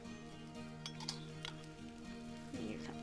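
A sesbania-flower omelette being scooped onto a plate, faint light clinks and scrapes of utensil against dish over a quiet background.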